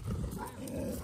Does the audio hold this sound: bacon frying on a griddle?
no